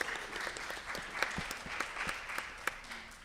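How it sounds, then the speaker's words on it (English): Student government audience claps for senate and presidential candidates at a campus speech and debate event, a faint, fairly distant, steady wash of many hands with a few sharper claps standing out. "Round of applause for all the candidates,"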